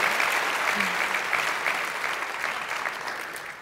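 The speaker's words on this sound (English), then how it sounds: "Please, please, please give them a huge round of applause." Theatre audience applauding at a live event at The Theatre at Ace Hotel, a dense, sustained wash of many hands clapping that stays loud and steady before tapering slightly toward the end.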